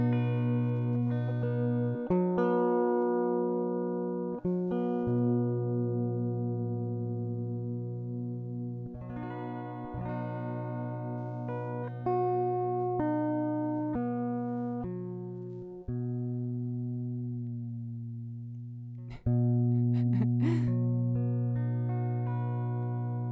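Guitar being tuned, single strings plucked and left ringing one after another with pauses and small pitch adjustments, clear and close with no talking.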